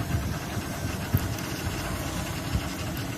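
A neglected BMW car engine, left standing a long time with the handbrake on, runs rough with a steady low rumble and a few heavy knocks, close and fairly loud.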